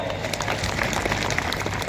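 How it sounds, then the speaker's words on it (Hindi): A large crowd at a World Adivasi Day speech in Dungarpur, Rajasthan, applauds the driver brothers in a steady, dense wash of clapping that is loud and continuous throughout, with no voice on top. "उन ड्राइवर भाइयों के तालियां बजाई दोस्तों"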